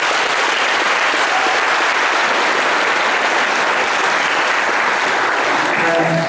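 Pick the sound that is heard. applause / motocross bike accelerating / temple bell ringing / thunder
applause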